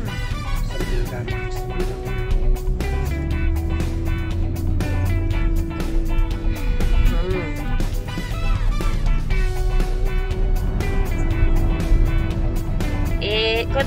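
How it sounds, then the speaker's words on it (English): A tractor driving by on a country road in Devon, England, its low engine rumble and droning tones under people talking nearby. "it's a tractor, look!"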